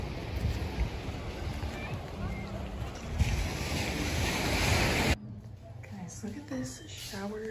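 Ocean surf on a Malibu beach rushes and roars steadily with strong wind buffeting, then drops away as someone speaks over quieter background.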